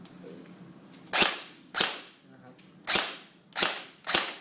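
A Classic Army G36C electric blowback airsoft rifle fires semi-auto: five sharp, loud cracks spaced roughly half a second to a second apart, each with a short mechanical snap of the blowback, heard close with no talking.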